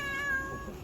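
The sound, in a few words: Russian Blue cat meowing at the vet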